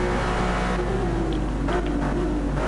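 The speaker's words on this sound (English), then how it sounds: "His car is super loud, so annoying." A race car at the Nürburgring gives off a loud, continuous engine drone with a rising and shifting pitch, heard steadily throughout.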